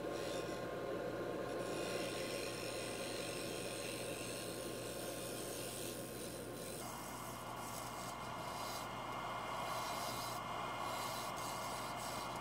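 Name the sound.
hollowing tool turning maple on a lathe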